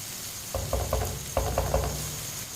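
Chopped tomatoes cooking in a pan for tori ki sabzi, with a steady sizzle and about six quick stirring scrapes in two short bursts.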